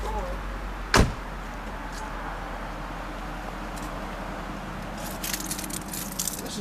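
A car door on a 2009 Jaguar XJ Super 8 Portfolio closes with a single solid thump near the start, then a steady low hum and faint rustling continue inside the cabin.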